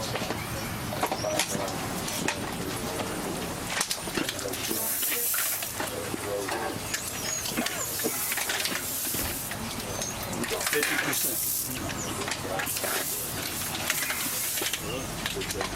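Water sprays with a broad, loud hiss in uneven bursts during pipeline repair work, mixed with occasional clatter and faint background voices.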